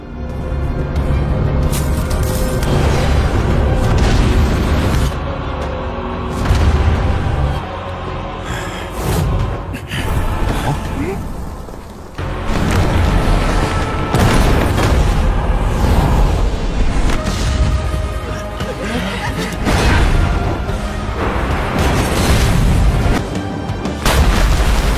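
A Buddha lotus attack explodes in an animated fight scene, a loud sustained roar of booming blasts and rumble that swells and dips in waves for the whole stretch.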